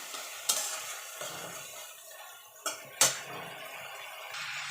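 Spice paste fries and is stirred in a pan, giving a low sizzle under repeated scraping strokes, with a few sharp utensil knocks against the metal.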